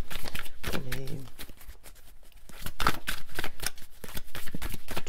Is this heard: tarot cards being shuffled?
yes